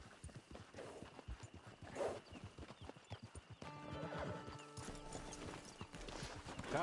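Horse hooves clip-clopping in the video game Red Dead, a steady close trot with a neigh and whinny partway through, loud over game ambience without speech.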